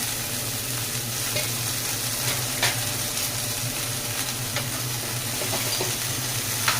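Thara pasalai spinach greens sauté for thuvaiyal in a pan, giving a steady close sizzle with occasional stirring scrapes and ticks, and no voices.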